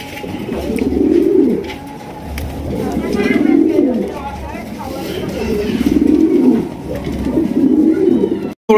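A pair of black Lahori pigeons coo aggressively close by, repeated low rolling calls in a steady rhythm of about four bursts, with a voice talking faintly between them.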